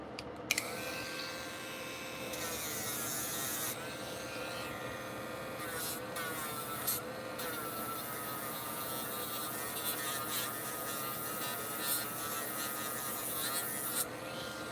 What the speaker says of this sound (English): now we swap out the flat sander for the drum sander